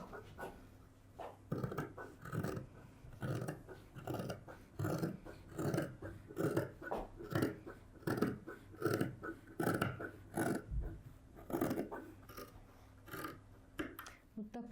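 Scissors cutting through jacket sleeve fabric, a close series of rhythmic snipping crunches repeating steadily, quiet and without talking.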